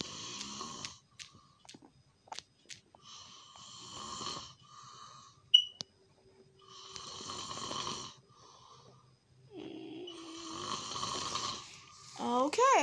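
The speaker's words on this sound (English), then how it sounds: "apparently my aunt is gonna snore as loud as she possibly can" A person snores loudly in repeated rasping, whistling bursts separated by pauses, recorded close and heard alone without talk.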